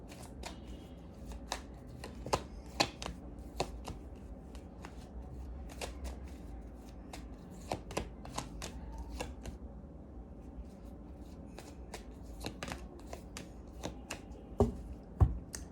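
Tarot cards are shuffled steadily for about sixteen seconds, making a soft, close patter of flicks and riffles broken by sharper snaps, with no talking.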